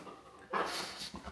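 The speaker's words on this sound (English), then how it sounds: "Look at this dog." Close, quiet panting and a brief whimper from an excited, dirty dog jumping up on its owner, heard in one short burst after a moment of near silence.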